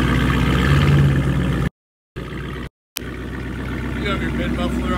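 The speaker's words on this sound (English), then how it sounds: "I haven't heard my car running forever." A car engine runs with the mid muffler removed and only the catalytic converters left, giving a loud, steady rumble with voices talking over it and two brief dropouts into silence.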